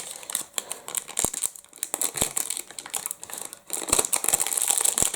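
Packing tape being pulled and torn from the packaging of a 12-in-one speed cube set, a run of close, loud crinkling, ripping and crackling bursts that come in uneven tugs.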